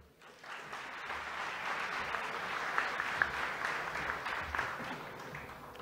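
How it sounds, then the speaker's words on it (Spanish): A conference audience at Perú Plagas 2023 gives a speaker a strong round of applause, dense sustained clapping that swells and holds for several seconds before fading. "Recibamos, por favor, y es un placer presentarlo con un fuerte aplauso"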